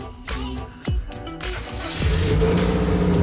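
A boxer-engine car revs in repeated short blips over a steady idle, rising into a louder, sustained rev toward the end, heard close by with no talking.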